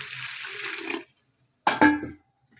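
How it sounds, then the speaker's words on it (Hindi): Water is poured from a jug into a pot of red beans with onion and spices, a brief splashing pour that fills the first second, then silence before a few quieter liquid clinks and sloshes. "अब हम तकरीबन इसमें आधा जग पानी और डालेंगे।"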